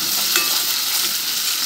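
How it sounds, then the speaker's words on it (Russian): Food sizzles in a hot pan while a utensil stirs in tomato for Armenian tolma, close and continuous. "мешаем до однородности."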